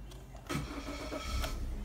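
A 2017 Suzuki Vitara 1.6 SZ-T petrol engine cranks briefly and catches, then settles into a steady idle, heard up close with no talking.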